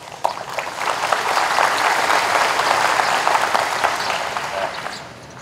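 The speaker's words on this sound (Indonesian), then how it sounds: "Tepuk tangan untuk kita semua." A crowd at a morning assembly of a government law training agency breaks into sustained applause, a dense, even roar of clapping that swells quickly and fades near the end.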